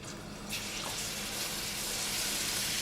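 Salmon livers hit hot butter in a pan and set off a loud, steady hiss of frying that jumps up sharply after a brief quieter moment, then sizzles on evenly.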